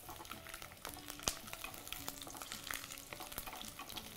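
Garlic frying in oil in a pan, a soft, close sizzle with intermittent stirring clicks and scrapes, fairly quiet and steady.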